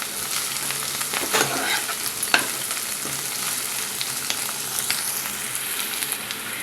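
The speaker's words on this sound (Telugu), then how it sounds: "అల్లం వెల్లుల్లి పచ్చివాసన పోయేంత వరకు వేయించుకోవాలి" Ginger garlic paste frying in a pan while being stirred for a chicken gravy, a steady close sizzle with occasional scraping strokes and no voices.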